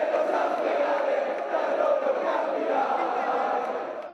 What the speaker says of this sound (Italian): davanti a Porta San Tommaso esplode l'urlo di gioia dei tifosi